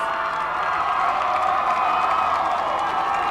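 A large crowd at a high school varsity football game roars and cheers steadily from a distance, a dense continuous wall of voices, as a news helicopter flies by.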